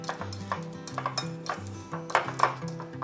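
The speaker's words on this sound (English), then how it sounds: "So let's stir it up. I'm just going to keep using my fork." Fork stirring and smushing deviled egg filling in a bowl, giving several light clinks and scrapes in an uneven rhythm, close and fairly quiet over a low steady hum.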